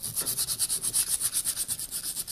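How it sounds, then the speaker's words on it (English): Sandpaper rubbed back and forth over a freshly hung wooden axe handle, a steady run of quick, rhythmic scratchy strokes close up with no talk. "I kind of like to run a little sandpaper over it"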